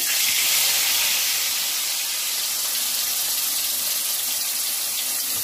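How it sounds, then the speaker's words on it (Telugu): Hot oil sizzles with a steady, loud bright hiss as fish pieces deep-fry, the crackle holding evenly throughout with no pauses. "ఇప్పుడు దీన్ని డీప్ ఫ్రై చేసుకుందాం."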